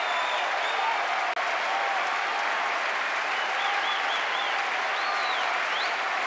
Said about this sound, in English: Back he comes, being applauded by the BBC Symphony Orchestra.